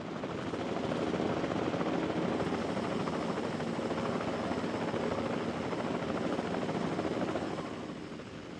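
Helicopters flying in the video game Jurassic World Evolution 2, a steady whirring rotor drone that holds at an even level throughout before easing off slightly at the end, with no talk over it.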